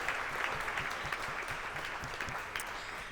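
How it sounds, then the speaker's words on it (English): Audience applause fills a gala hall at a San Francisco Chamber of Commerce awards event, steady and even throughout with dense clapping and no break. "Let's give them a round of applause as well."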